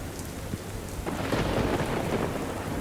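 Widespread rain falls over a district with flooded roads, a continuous close downpour hissing on surfaces while low thunder rumbles beneath it. No voices are heard.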